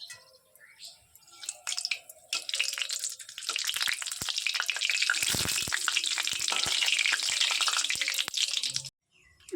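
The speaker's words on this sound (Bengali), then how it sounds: "কড়াইতে তেল দিয়ে দেবো। গোটা গরম মশলা, শুকনো লঙ্কা আর তেজপাতা।" Whole garam masala, dried red chillies and bay leaf hit hot oil in a wok, bursting into a loud, crackling sizzle that holds steady for several seconds after a few initial pops, then cuts off.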